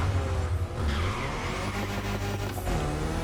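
A Ford Focus RS engine in The Crew Motorfest racing game drones at a steady pitch, with higher tire-squeal tones rising and falling over the continuous engine note.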